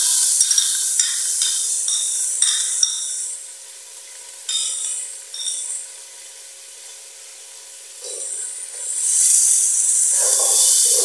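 Finely chopped onion hits the pan for aloo palak and sizzles and scrapes in bursts. The frying fades, then swells louder again near the end as it is stirred.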